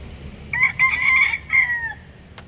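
A backyard rooster crows nearby, a loud, clear cock-a-doodle-doo in several drawn-out syllables over quiet ambience.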